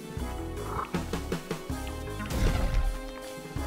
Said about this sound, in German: Und das da ist der Frosch, den ich gesucht hatte.